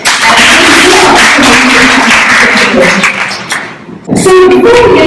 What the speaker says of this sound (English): So a huge round of applause to all the panelists here